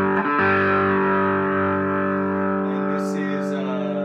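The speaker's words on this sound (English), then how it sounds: "So let's listen to it with a little bit of dirt." Coyle Model R solidbody electric guitar with hum-canceling single-coil pickups, played through a British-voiced overdrive setting, rings out a loud, sustained distorted chord that holds steady for several seconds, with a couple of brief bright pick scrapes near the end.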